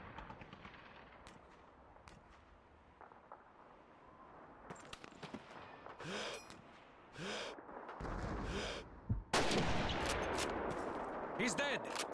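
Rifle fire in the World War II shooter Call of Duty 2, Russian campaign at City Hall: sparse distant shots give way to loud, sharp bursts of gunfire near the end, with voices talking in between.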